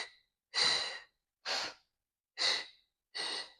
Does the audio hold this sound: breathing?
yes